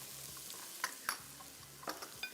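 Ginger and garlic frying lightly in a pan, a faint low sizzle with a few quick clicks and scrapes of a spoon stirring.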